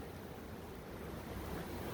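Steady rushing wind outdoors during a late-winter beehive inspection, a broad continuous roar buffeting the microphone without pauses.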